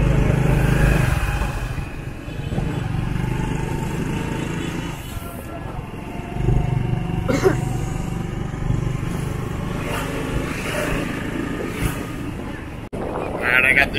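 A motorbike taxi rumbles through the streets of Hoi An, Vietnam, with a continuous engine drone and heavy wind buffeting the microphone, while voices talk faintly over the ride.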